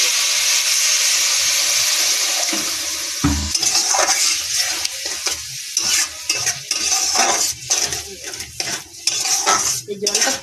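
Semolina pulao in a hot pan meeting a splash of water, a loud sizzling hiss followed by repeated spoon scrapes and metallic clinks against the pan as it is stirred.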